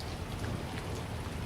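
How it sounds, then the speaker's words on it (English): Heavy rain hisses steadily in a brief storm sound effect, a dense, even wash of falling water with no distinct thunder clap standing out. "The sound of the storm breaking overhead seems to come from nowhere."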